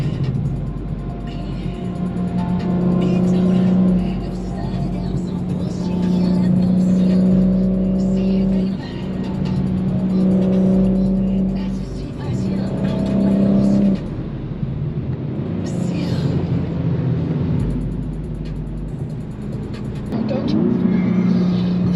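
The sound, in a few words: BMW G82 M4 Competition engine revving in boost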